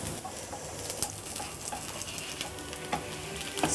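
Chickpea lentil patties sizzle steadily in a frying pan while being turned, a dense close crackle with occasional light scrapes and taps, and faint birdsong in the background.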